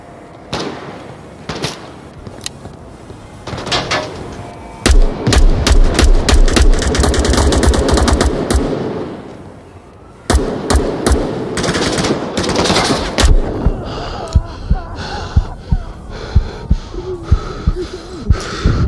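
Rapid bursts of automatic gunfire and single shots crack loudly and repeatedly in the Onward virtual reality shooter, with sustained volleys and sharp isolated reports close by, plus some breathing sounds between them.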